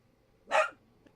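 A dog indoors gives a single short bark or yelp, close and fairly loud against a quiet room, followed by a faint trailing sound.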